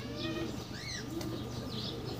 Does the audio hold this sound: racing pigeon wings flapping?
yes